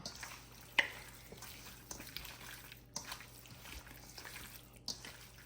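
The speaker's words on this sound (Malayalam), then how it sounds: "ഇതെല്ലാം കൂടി ഒന്ന് മിക്സ് ആക്കുക" Beef curry ingredients are mixed in a pan, giving quiet scraping and stirring with a faint sizzle and occasional sharp clicks of the spoon against the pan.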